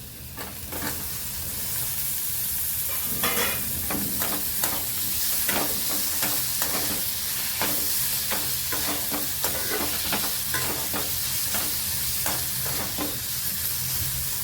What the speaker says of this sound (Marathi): टॅमॅटो पण चांगला मऊ होईपर्यंत परतून घ्यायचा